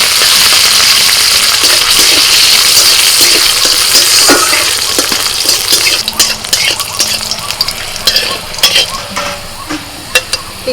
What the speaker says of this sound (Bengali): তেলের মধ্যে দিয়ে দিচ্ছি দুটো কাঁচা লঙ্কা আর কয়েক কোয়া রসুন কালো জিরে